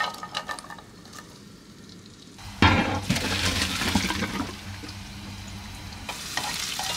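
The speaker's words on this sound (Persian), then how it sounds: "الان میخوام سرخش کنم." Raisins fry in oil reused from frying carrots, a close sizzle and stirring scrape that swells sharply midway and continues steadily, with no talking.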